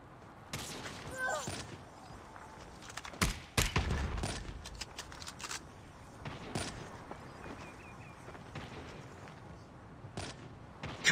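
Sniper gunfire in a search-and-destroy match of a mobile shooter game, several sharp loud shots spaced irregularly with bursts of other game effects and footsteps between them.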